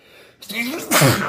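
A single close, sharp sneeze bursts out during an indoor interview, with a short intake of breath before the main explosive burst.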